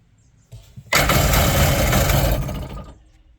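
A Kawasaki sport cruiser motorcycle engine, run with the air box off and choked by hand, cranks briefly and then catches, roaring loud and close for about two seconds before dying away.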